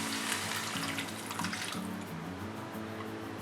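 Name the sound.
water poured into pan for cooking rava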